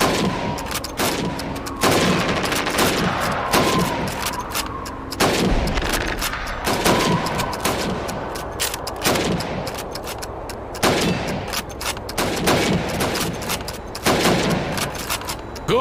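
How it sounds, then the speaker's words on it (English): Repeated rifle shots in Call of Duty 2 Red Army training, fired at helmets against a time limit; loud, sharp cracks come at a steady rhythm of roughly one every second or two, each followed by a short echoing tail. "You have 15 seconds to shoot the helmets."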